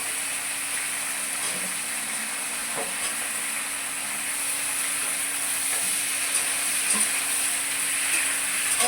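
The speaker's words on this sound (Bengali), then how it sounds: "একে একে আমি সব সবজিগুলো দিয়ে এবার একটু নেড়ে চেড়ে নেবো" Gourd stems, eggplant and potato pieces fry in a pan while being stirred, giving a steady close sizzle and hiss with a few soft utensil scrapes and a faint hum underneath.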